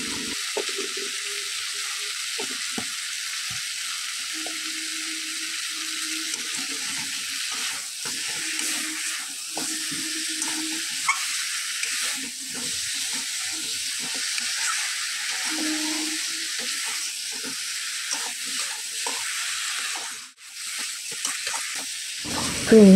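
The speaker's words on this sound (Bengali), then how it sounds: "কুমড়োটা ভাজা হয়ে গেছে" Pumpkin seasoned with salt and turmeric fries in a pan, giving a steady close hiss of sizzling oil that carries on alone, with a few soft clinks and stirs underneath.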